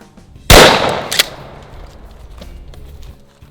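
A shotgun loaded with birdshot fires one loud, close blast at five yards, followed by a sharp metallic clink and a decaying outdoor echo.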